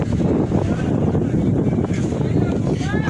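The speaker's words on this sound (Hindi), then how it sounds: "हवा बहुत चल रही जी, तां करके थोड़ी जी दिक्कत आ रही है" Strong wind buffets the microphone at an outdoor tractor market in Barnala, producing a heavy, continuous low rumble and roar that runs the whole time.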